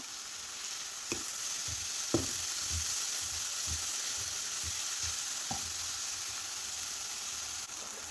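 Onions sautéing in a pan with a teaspoon of salt, a steady broad sizzle running throughout with a few sharp clicks of stirring, close and even, no voices.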